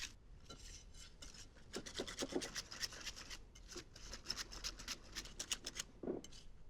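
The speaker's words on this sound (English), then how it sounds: "I want to give it a good whisk to smooth it out, ensuring that your cheesecake is nice and fluffy." Quiet, rapid scratchy strokes of a whisk beat cheesecake batter in a bowl, an even rhythmic scraping heard close but faint throughout.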